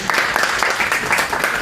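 Audience clapping at a public meeting in Amiens, a dense round of applause from a seated crowd, steady and moderately loud throughout.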